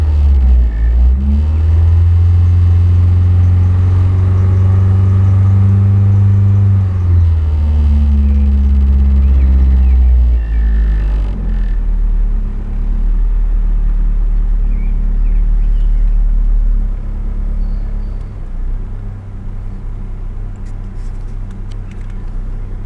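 A 1990 Rover 214 car engine runs loudly up close, a deep rumbling drone that rises and falls with revving in the first half, then settles to a steadier, quieter idle.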